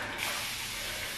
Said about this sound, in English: spray my locks down with rose water